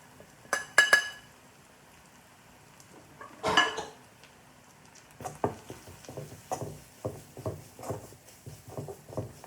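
Crushed pepper, cumin, coriander, a chilli and fenugreek roast in a pan for rasam, a few scraping clinks of a spoon at first, then a steady run of quick close metallic stirring taps.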